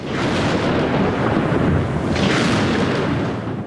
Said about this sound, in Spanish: Como simbolizando el significado de la reunión, estalla una fuerte tormenta.